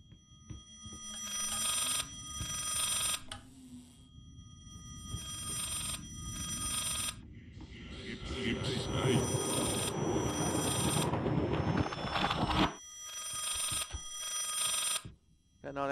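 A telephone rings repeatedly in the Layers of Fear horror video game. The steady, bright bell trills repeat over a murky, swelling ambient background, with a noisier stretch partway through before the rings continue.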